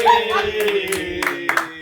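A few distinct claps in a podcast studio, sharp and close, scattered among ongoing conversation.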